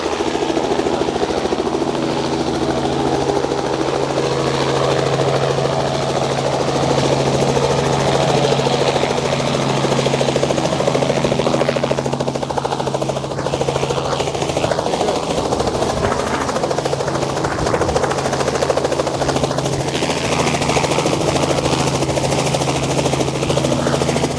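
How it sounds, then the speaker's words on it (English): A loud helicopter drones steadily throughout as it lands in a backyard, its engine and rotor hum continuous and close, with faint voices now and then underneath. "exactly what I want to do, is be able to land my helicopter right there"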